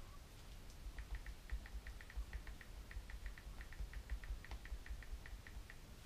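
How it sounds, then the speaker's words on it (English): An iPhone keyboard on the iOS 10 public beta makes soft, rapid clicks as someone types. The taps come in a quick, steady run, faint and close against a low background rumble. "the first thing that changed, and that was the typing sound"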